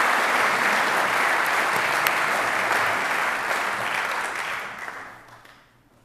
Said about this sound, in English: Let's have a nice round of applause for